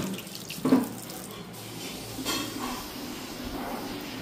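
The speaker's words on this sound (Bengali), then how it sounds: "ভালো করে হাত ধো, ভালো করে" A water tap runs as hands are washed, a steady splashing stream with brief louder gushes near the start and midway, close by and without talk.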